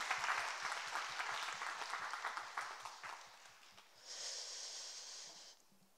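Church youth congregation applauding a lecturer after a seminar, rhythmic clapping for about three seconds, then a softer wash of applause that fades out near the end.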